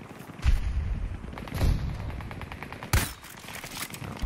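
Gunfire in a first-person shooter video game: bursts of shots and heavy booms over a steady rumbling battlefield background, with sharp reports near the start, the middle and around three seconds.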